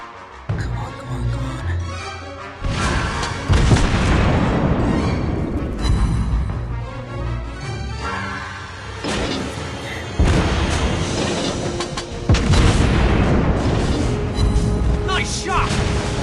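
Warship guns fire in World of Warships with repeated heavy booms and rumbling blasts, loud and layered over game effects, while a voice speaks during the action.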